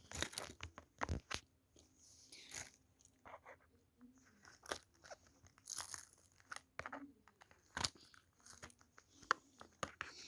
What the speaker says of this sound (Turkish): O yüzden ben hemen bunu makasla açmak istiyorum.